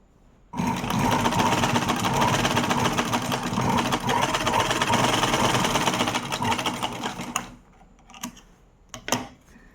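A sewing machine stitches the ends of a rubber band hair accessory together, running in a steady, close, continuous mechanical whir for several seconds before stopping, followed by a few faint clicks and handling knocks.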